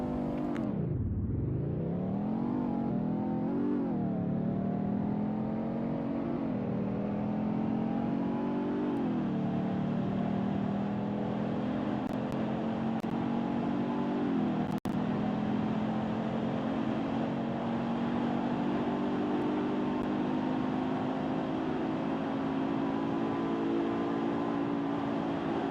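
A car in the Roblox Greenville game weaving through traffic, its engine revving up from low and then holding a steady, loud drone at high speed for the whole stretch, close and continuous with no talk.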